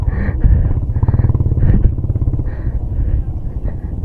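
A motorcycle strains up a rough, steep road near Montalban, Rizal, its engine loud and close with a labored, pulsing drone and repeated throttle surges.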